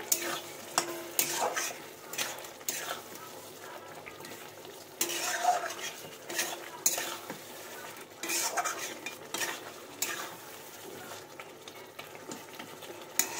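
Fried pointed gourd is tipped into a pan of cooked-down spice paste with partly boiled potatoes, then stirred and scraped against the pan in repeated clattering strokes over a soft, continuous sizzle of oil, close and without voices.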